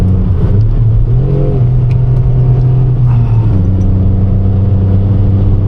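A car engine held at full throttle, foot to the floor with limited horsepower, drones loudly and steadily close by, its pitch shifting slightly as it strains, with no talking.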